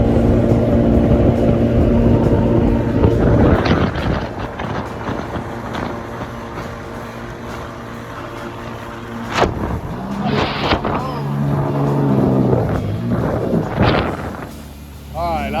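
A jet ski engine is given the gas on open water near Punta Gorda, Florida, its loud droning roar rising and falling with wind buffeting the microphone.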